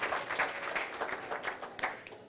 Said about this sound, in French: Merci beaucoup, on applaudit très très fort.